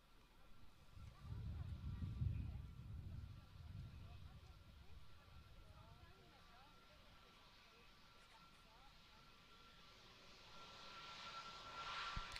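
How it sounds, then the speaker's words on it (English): Airliner engines at Manchester Airport, a broad jet roar that swells early and then fades into a steady distant hum, faint and continuous, with a person talking over it. "We just listen to those Neo engines, nice and quiet."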